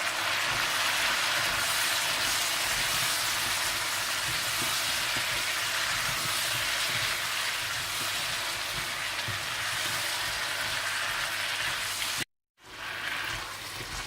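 Chili powder, turmeric and salt fry in a pan for Pakistani aloo methi, giving a steady, loud broadband sizzle that runs almost unbroken, cuts out briefly near the end, then resumes.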